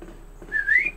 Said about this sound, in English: Yeah, you whistle her over.